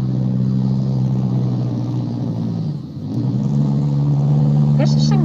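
A beater car drifting in the racing game Midnight Racing, with a steady, loud engine drone and tyre noise that dips briefly before resuming, under someone talking.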